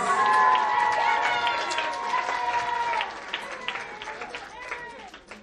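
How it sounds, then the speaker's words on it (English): An audience at a church religious education festival applauds with sustained clapping and crowd noise and some voices mixed in, the applause gradually fading. "Let's give them another round of applause."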